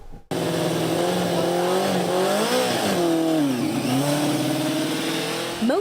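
A USC Racing Club race car engine heard up close, revving and shifting with rising and falling whines through the gears, loud and continuous for several seconds.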